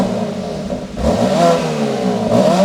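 A BMW X3M engine revs up in regular mode with valves closed, a close, loud mechanical roar swelling in pitch around the midpoint and easing back, then rising again near the end, with no talk over it.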